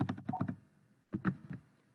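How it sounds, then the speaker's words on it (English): Someone types on a computer keyboard during a grant program meeting, with two short bursts of quick, soft key clicks separated by a pause, close and quiet. "so Sandy, I'm typing you in"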